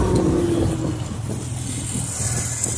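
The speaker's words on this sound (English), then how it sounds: "Oh, the car's behind me." A car engine approaches from behind a 1951 Farmall H tractor on a rural valley road, a steady close motor hum with a brief higher whine at the start.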